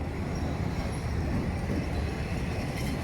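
A train rolls past on an outing with river rafting and a fish market in Thailand, a steady, dense rumble that holds at one loud level, close by and without voices.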